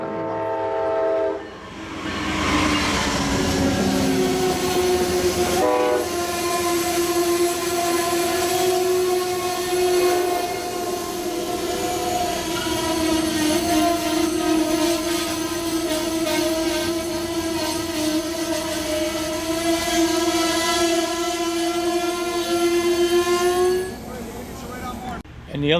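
A train horn blares long and loud at Claremont Station for most of the clip, steady sustained tones over rumbling rail noise, fading out near the end.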